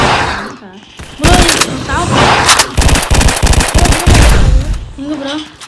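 Rapid bursts of gunfire from a Roblox zombie survival shooter, loud and close, with repeated volleys of shots while players chatter over the shooting.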